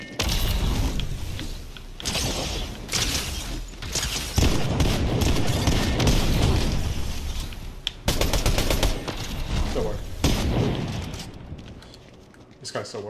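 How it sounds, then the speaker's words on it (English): Auto shotgun fire in Fortnite, loud rapid bursts of heavy blasts separated by short pauses, with mechanical clacks and game effects between volleys and a voice talking over the gameplay. "Oh, that is an auto shotty though."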